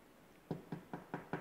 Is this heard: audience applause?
no